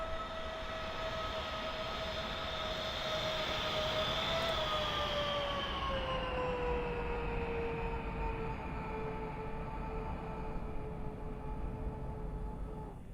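An airliner's engines roar with thrust reversers in Microsoft Flight Simulator 2020, a steady rushing noise with a high whine that drops in pitch as the engines spool down and fade.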